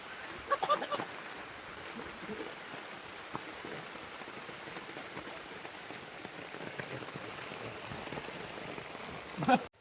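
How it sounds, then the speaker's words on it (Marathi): Steady rain pattering on a surface, a continuous wash of drops with some voices talking faintly underneath. "पाऊस लय मोठा आलाय हा बघ"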